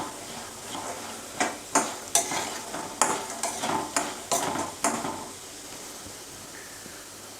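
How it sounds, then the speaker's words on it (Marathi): A spoon stirring poha as it dry-roasts in a pan, with about ten close, rhythmic scraping strokes over a faint dry sizzle, fading to quiet at the end. "हमेशा हलवत राहा, कारण जास्त हलवलं नाही आहे तर करपण्याची शक्यता जास्त असते."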